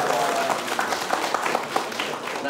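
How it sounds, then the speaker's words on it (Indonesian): Audience clapping hands at a religious training hall gathering in Palembang, a short burst of steady mixed applause with distinct individual claps, fairly close. "Tepuk tangan dong."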